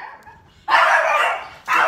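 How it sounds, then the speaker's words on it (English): Dogs barking indoors nearby, two loud, close barks in quick succession after a brief faint whine. "the dogs are going crazy"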